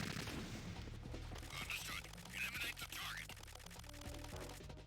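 Gunfire from the stealth game Metal Gear Solid 2 shoots down a target: rapid repeated shots crackle over a low, steady rumble of game background sound, with a couple of brief sharper bursts in the middle.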